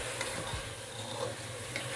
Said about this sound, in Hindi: अब मैं इसमें गोश्त डाल रही हूँ।